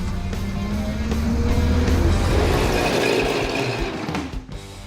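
A Ford Model A hot rod on a shakedown run, its engine a steady, loud rumble that swells and then fades away near the end.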